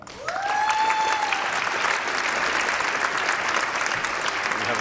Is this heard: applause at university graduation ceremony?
yes